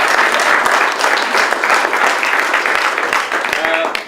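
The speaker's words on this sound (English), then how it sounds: "So if we could just have a round of applause first of all for those." Steady round of applause from an audience in a village hall, dense continuous clapping filling the room at close range and holding loud throughout, with a faint voice near the end.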